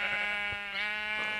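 Sheep bleating in the Minecraft video game, a single wavering, nasal baa that is steady and fairly loud, with no talk over it.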